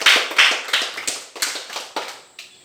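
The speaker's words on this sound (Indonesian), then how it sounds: "Oke, tepuk tangan buat Rizky." Students in a junior high school Islamic studies class clap for a classmate: a loud, close run of rhythmic claps in short, evenly paced bursts.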